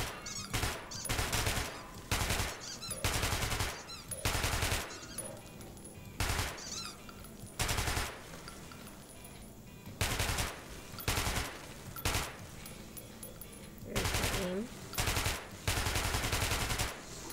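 Heavy machine gun in Metro 2033 Redux firing short repeated bursts, each a rapid rattling volley separated by brief pauses, fairly quiet overall.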